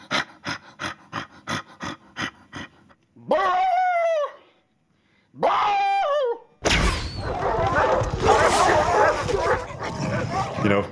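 A vicious dog pack effect for Lord of the Rings, voiced by a person mouthing the sounds, opens with a rapid run of sharp yips. Drawn-out snarling growls follow, then a loud, dense melee of overlapping snarls and barks.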